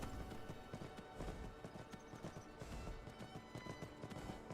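Frost, a horse in Skyrim, walking with steady clip-clop hoofbeats in an even rhythm, close but fairly quiet, with no talk over them.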